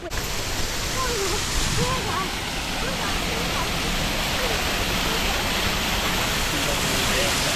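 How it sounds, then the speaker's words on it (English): A waterfall on a steep hiking trail roars as a continuous broadband rush of water, close and fairly loud, with people talking intermittently over it. "Found the waterfall, and we're hiking it."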